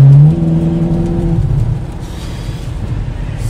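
A Ferrari California in seventh gear on a motorway accelerates with a smooth, rising engine drone and strong road and wind roar, loud and close from inside the car, without speech.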